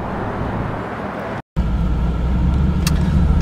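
A 2013 Lexus IS F performance car drives along, its loud steady engine and road noise filling the cabin with a brief cut partway through and no talking.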